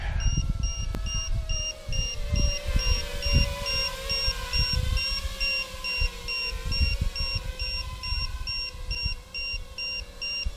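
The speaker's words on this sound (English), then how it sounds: "That battery alarm doesn't seem to be particularly useful, unfortunately." A steady electronic tone from the battery alarm on an Eachine Wizard X220 drone, sounding continuously for several seconds over outdoor wind and motor noise.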